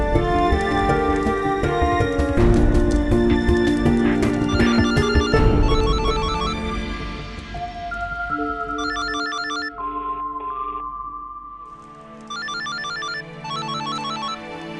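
A mobile phone rings with a repeating electronic ringtone in pulsing bursts, first blended with music and busy sound, then standing out more clearly in short rhythmic groups.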